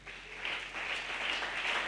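A church congregation applauds and acclaims the Lord during worship, a steady wash of clapping hands that holds at an even level for about two seconds, with no speech.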